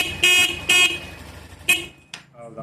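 A two-wheeler horn sounds during an electrical test, three close, loud toots, the first two short and evenly spaced and the third briefer, followed by a faint tail.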